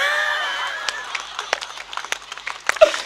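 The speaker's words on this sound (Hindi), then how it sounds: "देखो ताली बजेगी" Scattered claps from an audience at a Hindi comedy poetry show break out and thicken into uneven applause, with a brief tonal sound at the start.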